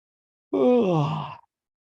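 A single person lets out a long, drawn-out yawn, a voiced groaning exhale lasting about a second, close and clear against silence.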